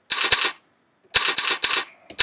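Keyboard typing during a typing-tutor game: quick bursts of sharp, loud clicks in three clusters separated by short pauses, close and dry with no talk.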